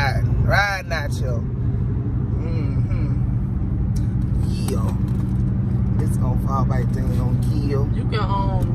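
Interior of a car riding around Duval, with a steady low engine and road rumble running throughout beneath several people talking.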